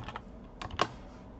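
Several quick keystrokes on a computer keyboard, typed in short bursts with brief pauses between them, close and fairly quiet while filling in text fields on a hospital intake form.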